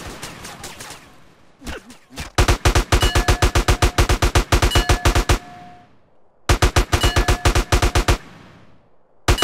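Rapid automatic gunfire in the video game GTA San Andreas Multiplayer: a long, loud, evenly spaced burst of shots, a brief pause, then a second burst, all close and dominant.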